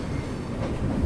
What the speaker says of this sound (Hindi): रिवर्स शंटिंग हो रहा है इसके यार्ड में